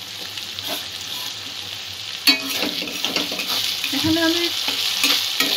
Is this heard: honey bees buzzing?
no